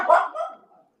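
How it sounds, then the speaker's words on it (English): Dogs at a house let out one or two loud, sharp barks close by, fading quickly into silence. "That's when my dogs are barking"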